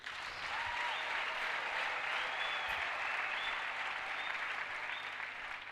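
A church congregation claps together in sustained, even applause, a dense crowd of hands near and steady for several seconds with faint voices underneath.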